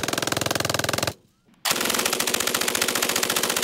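An MG-42 machine gun fires long, extremely rapid bursts, loud and close, with one burst cutting off into a brief near-silence before the next burst starts.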